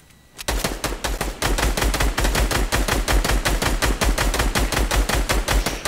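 Rapid automatic rifle fire rattles off in long, dense bursts during a Fortnite Battle Royale duo match, loud and close, with no talking.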